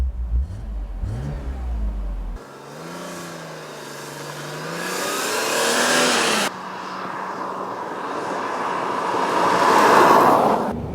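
A car's engine fires up and revs through several rising and falling sweeps, loud and close, settling into a throaty idle and then climbing again without any talk over it.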